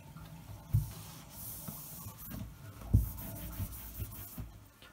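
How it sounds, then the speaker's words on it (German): Bath water running out of a plastic baby bath used for a reborn toddler doll, faint gurgling and splashing with a few louder sloshes and knocks. "dass wir mal das Wasser rauslaufen lassen"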